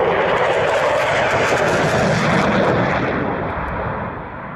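A jet aircraft making a high-speed low pass at about 580 knots and 100 feet, a loud, dense roaring rumble that holds steady then fades away toward the end.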